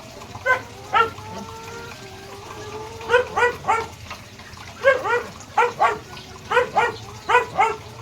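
A dog barks at chickens in quick bursts of two or three, loud and close, with short pauses between volleys and faint background noise.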